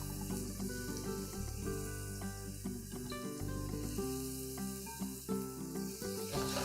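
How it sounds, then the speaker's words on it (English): Onions sizzle in a hot pan, a quiet steady frying hiss beneath a louder tonal hum that shifts in pitch throughout. "And then in go the onions. Oh, that's a good noise."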